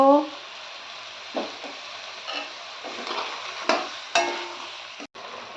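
Water from rinsing a spice bowl poured into a pan of frying spiced ash gourd, giving a burst of sizzle that settles into a bubbling hiss, broken by scraping stirs and several sharp clinks.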